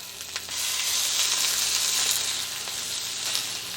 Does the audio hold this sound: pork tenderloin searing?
yes